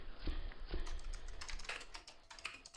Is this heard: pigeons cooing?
no